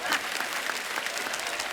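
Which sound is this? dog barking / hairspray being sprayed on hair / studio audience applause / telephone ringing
studio audience applause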